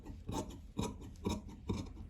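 Scissors cutting blouse fabric for a boat neck blouse: four separate rasping snips spaced roughly half a second apart, close and fairly quiet, with no talking.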